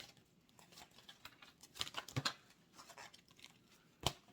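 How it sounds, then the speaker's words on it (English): Tarot cards being shuffled give faint, close papery riffles and soft clicks in uneven bursts, with a few sharper card snaps, heard alone. "This is the last time I'm going to shuffle them."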